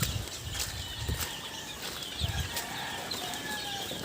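Pet chickens and chicks on a rainy day, soft clucks and faint peeps from the flock over a steady wash of rain noise, with a few brief wing flaps and scuffles close by.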